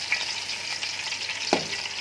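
Marrow bones, the tubular soup bones, hit melted ghee in a pot and fry with a steady close sizzle, broken near the end by a brief clatter as they are stirred.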